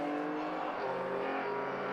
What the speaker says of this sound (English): The Caterham and the Mazda both heading back out onto the black stuff then